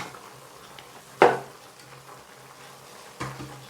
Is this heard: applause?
no